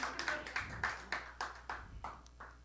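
A small audience gives a few scattered bursts of clapping, light and uneven, separate claps rising and fading over a couple of seconds.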